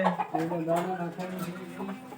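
Chickens cluck softly nearby, with mixed bird calls, and a voice speaking over them.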